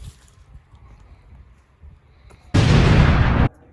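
A single loud explosion sound effect of a Vietnam War tripwire blast bursts suddenly after quiet background murmur, a dense roaring burst lasting about a second before cutting off.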